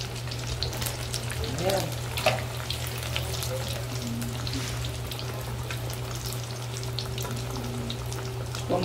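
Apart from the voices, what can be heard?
deep-frying macarrão quadrado pasta in oil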